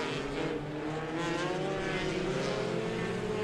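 Front-wheel-drive race cars on a figure-8 track at the Indianapolis Speedrome roar steadily and loudly, their engine drone continuous with a rising and falling pitch as the pack passes close by.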